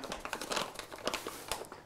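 Packets of baking powder are handled up close, giving quick, continuous crinkling and rustling of paper or foil with no talk.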